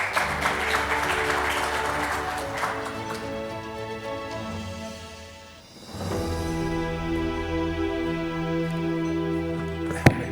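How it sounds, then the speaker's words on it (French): Audience applause in a hall at the opening session of a Moroccan chemistry industry federation workshop, a steady wash of clapping that dips briefly midway and resumes, set against sustained tonal background sound. "Sous vos applaudissements, mesdames et messieurs."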